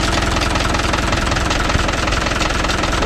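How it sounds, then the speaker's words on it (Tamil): Mahindra 575 DI tractor diesel engine idling close up, a steady loud rumble with a fast, even knocking from a faulty fan running through it for the whole stretch, with no voices. "ஃபேன் இருக்கிறதுனால ஒரு சவுண்டு வரும் பாருங்க. ஒரு கடை கடை கடை கடைன்னு ஒரு சவுண்டு வருதா."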